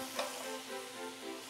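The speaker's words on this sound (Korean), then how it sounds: "이렇게 전복을 바짝 볶을 필요 없이요. 그냥 살짝만 이렇게 볶아주면" Abalone being lightly stir-fried in a half spoonful of sesame oil, a soft, steady sizzle with faint stirring touches, quiet and close, with no speech.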